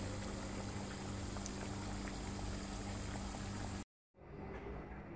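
Stuffed pastries frying in hot oil until golden on both sides give a steady, close bubbling sizzle that cuts out briefly near the end before resuming more faintly.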